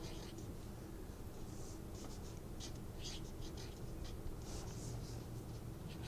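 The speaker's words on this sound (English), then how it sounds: "write proprietorship on that card" Pen or pencil writing a word on a paper card, with steady scratchy strokes in short bursts over a constant room hiss, no talk.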